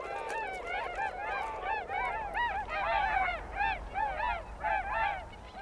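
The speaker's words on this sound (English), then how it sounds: "Hooper swans from Siberia and Scandinavia like to spend the winter in Germany." Whooper swans wintering on German rivers and lakes give many loud, trumpeting, honking calls that overlap in a lively chorus over a steady outdoor rumble, fairly close, with no talking.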